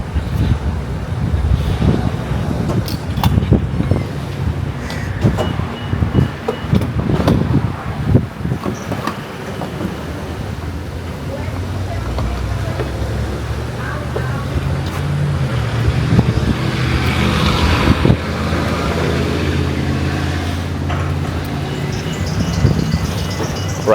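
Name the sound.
car interior while driving on the road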